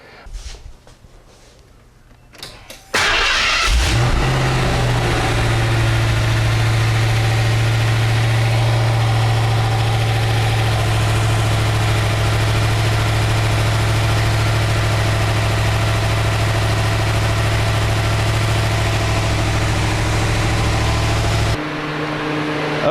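A 5.0L OHV V8 swapped into a Fox-body Ford starts up and idles steadily with a loud, constant low hum and rumble for about twenty seconds before cutting off.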